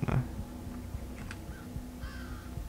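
A crow caws in the Thief video game, faint and set back in the mix over a low ambient hum and scattered soft knocks.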